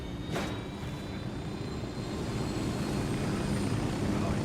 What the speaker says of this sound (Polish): Wbiję do helikoptera.